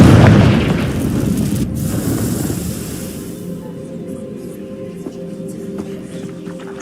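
A Confringo blast spell in Hogwarts Legacy erupts as a loud, close boom, its rumble trailing off over a few seconds into quieter game ambience with faint clicks.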